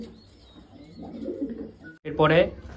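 Male Madras pigeon kept for flying, softly cooing in a low rumbling series, then a louder, brighter burst of calling near the end, close by with background noise.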